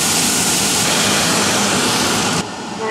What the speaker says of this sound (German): Ich muss Abzug anmachen